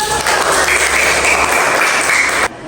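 A classroom of students claps together on a teacher's cue, a loud, close, continuous burst of hands that cuts off abruptly near the end.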